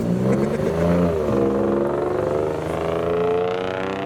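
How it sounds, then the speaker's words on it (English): An unusually loud Jaguar X-Type car at a car meet drives past, its engine note rising and then falling as it passes close by, heard alone without talk. "there goes the unusually loud Jaguar X-Type"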